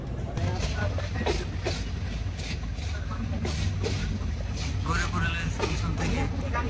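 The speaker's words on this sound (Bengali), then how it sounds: "ইঞ্জিন ঘুরিয়ে ট্রেন এখন ময়মনসিংহের উদ্দেশ্যে ছেড়ে যাচ্ছে" The Bijoy Express train pulls out toward Mymensingh, a steady, loud rumble of rolling rail cars with rhythmic clatter throughout, while someone talks nearby.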